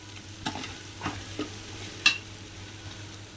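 Onion frying with ginger garlic paste and chili powder for a homemade biryani, a quiet low sizzle with a few distinct scrapes and taps of a spoon stirring the pan.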